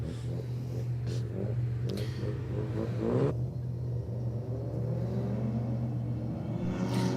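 Drag race between a Subaru WRX and a Nissan Silvia, engines rumbling and revving up in loud rising sweeps, one cutting off sharply before more revving follows, with a steady low hum underneath.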